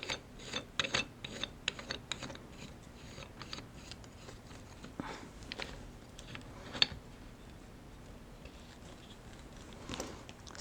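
A clamp gets tightened around a Vortex V500 shear, with faint mechanical clicks, ratcheting ticks and small metal taps scattered irregularly over a quiet background.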